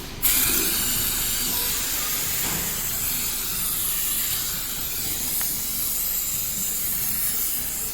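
Brake cleaner sprays from an aerosol can onto engine parts of a 2014 Honda Accord, a loud, close, continuous hiss that lasts the whole stretch with only slight changes in strength.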